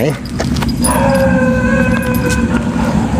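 A dog lets out a drawn-out, howl-like call mixed with short barks, loud and close over a rough, noisy background.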